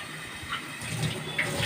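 Water poured into a cooking pan while making alu posto, a short steady splashing and running pour lasting under two seconds, close and moderately loud with no talking.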